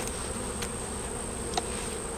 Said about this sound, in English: Yeah, a lot of bees in here.